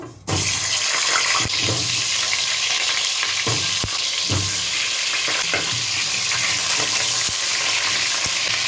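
Potatoes dropped into hot oil and frying, a loud, dense, crackling sizzle that bursts in suddenly and holds steady, with occasional clacks of a utensil against the pan.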